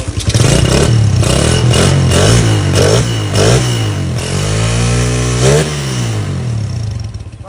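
A motorcycle engine revs hard and close, repeatedly climbing and dropping in pitch in quick throttle bursts, with one longer swooping rev near the end.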